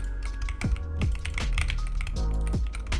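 Mouse right-clicks land repeatedly during video game play, sharp close clicks roughly every half second over a steady hum of game background sound.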